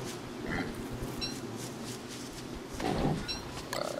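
A pig in the video game Don't Starve gives a few short, grunting oinks at irregular intervals, close and moderately loud, with the last grunt the strongest and no talking.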